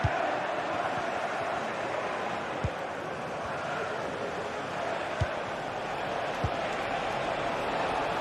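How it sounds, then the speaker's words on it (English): Steady stadium crowd roar in a Gran Turismo Sport league football match, a continuous distant wash of cheering and chanting that stays even throughout, with a few sharp thumps and a commentator's voice over it. "Being egged on by the crowd."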